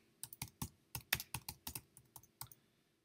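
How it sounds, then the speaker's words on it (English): Quick, irregular keystrokes on a computer keyboard, about fifteen close, crisp clicks in a short burst that tapers off, with no talking. "I'm going to type in my products."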